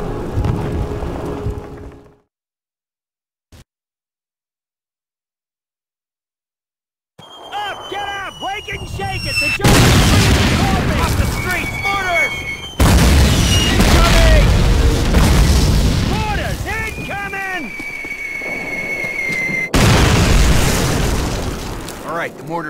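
Mortar shells burst repeatedly in Call of Duty, a few heavy booms over continuous battle noise and chatter after an initial brief quiet stretch, loud and close.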